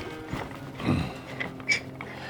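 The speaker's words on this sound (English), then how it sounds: "now I release that clamp." A clamp is released during fork reinstallation, giving a short mechanical creak and clunk near the middle, then a sharp metallic click a moment later, close up with no talk.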